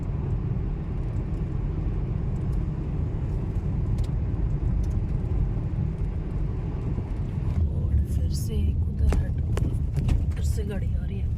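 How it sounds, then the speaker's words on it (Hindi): A vehicle on a mountain road approaches with a steady low rumble that carries on throughout, while people talk over it nearby. "गाड़ी आ रही है"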